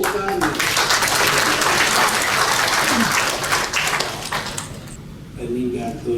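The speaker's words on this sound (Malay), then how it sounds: "Beri tepukan." An audience at a Sarawak state cabinet event applauds with loud, dense clapping that fades toward the end, and a voice comes in faintly near the close.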